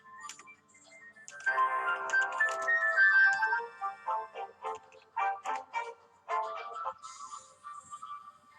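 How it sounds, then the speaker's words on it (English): Phone ringtone plays a bright melodic tune for several seconds, clear and fairly close, with a short silent gap before it resumes. "that was a phone call"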